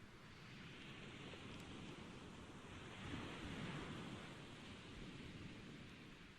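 Ocean waves in GTA 5 heard while sailing at sea, a faint, steady wash of surf and rushing noise that swells slightly midway and carries on without pause, with no talking.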